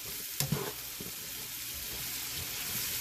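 Peppers and onions sizzling in a pan with garlic, butter and olive oil for Italian sausage, a steady hiss with a few spoon-stirring clatters near the start, close up and fairly quiet, no talking.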